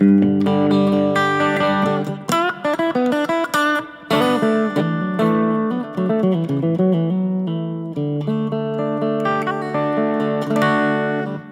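An electric guitar on its second pickup position plays a clean, sustained run of chords and single notes, with ringing harmonics and brief pauses between phrases.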